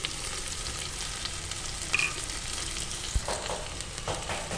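Onion, curry leaves and a green chilli sautéing in a pan, a steady close sizzle with occasional faint stirring clicks, no voices.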